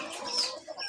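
Layer hens on a small poultry farm clucking in short, close calls over a continuous background of farm noise.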